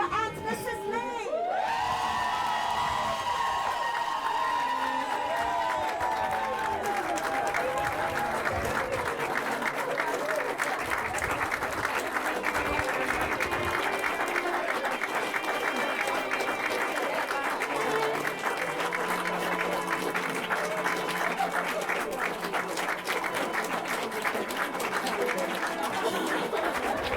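Guests at a wedding break into loud, sustained applause with cheering and whoops as the newly married couple is introduced, the crowd noise dense and steady throughout, with music or voices mixed in underneath.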